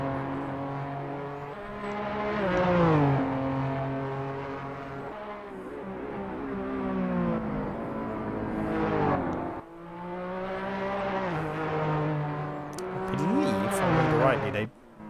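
Racing cars lap Sachsenring in a racing video game, their engines rising and falling in pitch through gear changes, loud and close, with a commentator talking over them.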